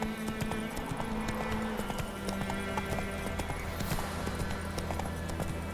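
Hoofbeats of Roach the horse running in The Witcher 3: Wild Hunt, a fast continuous clip-clop rhythm close by, layered over a steady droning game music bed.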